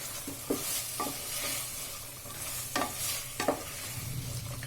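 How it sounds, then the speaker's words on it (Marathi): A spoon stirs a pea and potato curry coated in masala, giving a few scattered scraping strokes over a faint steady sizzle with no voices. "आता आपण हे चांगलं एकदा हलवून घेऊया मसाला सगळीकडे लागला पाहिजे"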